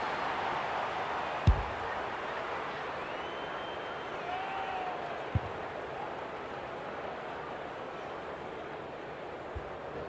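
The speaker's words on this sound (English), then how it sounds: "The crowd noise tells you all you need to know." A large crowd at an Australian football match roars in a steady, distant wash of cheering, with a few sharp knocks on top.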